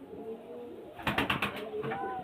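Pigeons coo at a bird seller's loft, a short burst of throaty calls rising midway over a faint hum of background noise.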